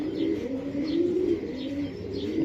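Budapest and Pakistani pigeons cooing nearby, a soft low rolling coo repeating in slow waves with a few faint higher chirps over a steady background.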